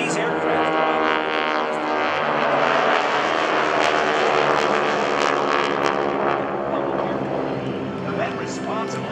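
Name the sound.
GEICO Skytypers vintage aircraft flying overhead at airshow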